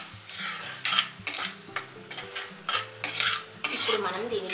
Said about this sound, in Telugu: ఈ నూనె వేడికి ఈ ఎండుమిరపకాయలు వేగుతాయండి